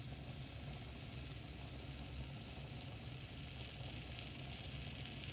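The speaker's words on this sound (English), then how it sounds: "You can see it boiling a little bit there." Sand and salt mixture heating in a vessel on a lab burner, giving a steady, faint sizzling hiss with soft bubbling, continuous and unbroken throughout.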